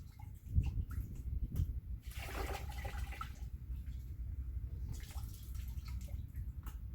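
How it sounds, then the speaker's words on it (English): Water splashes and drips while paint is rinsed out of a brush as the bristles are squeezed and bent back, a soft, uneven wet sloshing close by with a brief louder gush. "squeeze the brush, and bend the bristles back to rinse the paint out of the bristles"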